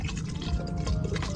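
About 1.5 liters of water poured onto rice for chicken biryani, giving a steady, close splashing and filling rush with no gaps, heard on its own for a brief moment.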